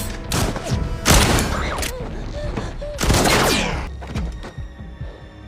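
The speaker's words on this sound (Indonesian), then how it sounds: "El Corvo langsung melepaskan tembakan ke arah Chris" Gunfire rings out in an action film: loud, close shots and bursts fire in irregular volleys, with booming thuds and mechanical clatter between them.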